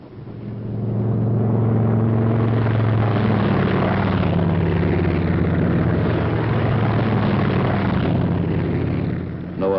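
Loud, continuous roar of P-47 Thunderbolt fighter-bomber radial engines as a squadron takes off, a dense rumbling drone holding steady throughout with a slight swell in pitch, heard alone with no talk.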